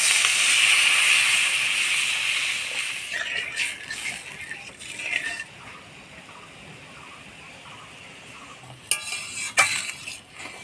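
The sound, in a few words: water poured into frying spice paste in pan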